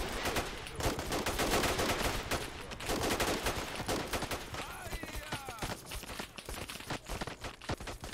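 Heavy gunfire in the Call to Arms video game crackles nearly nonstop: rapid automatic bursts and overlapping shots from multiple weapons, loud and dense throughout, thinning slightly toward the end.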